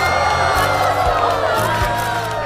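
A crowd at a fan meeting cheers and whoops, with loud overlapping shouts and clapping that fill the space continuously, some voices rising above the general roar.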